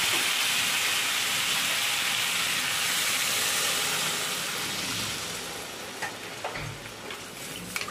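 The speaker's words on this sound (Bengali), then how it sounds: "এবার আমি পরিমাণ মতো জল দিয়ে দিচ্ছি।" Water is poured into spice paste frying in oil for a rohu fish head curry. The loud, dense sizzle and hiss eases and softens partway through, and a few clinks follow.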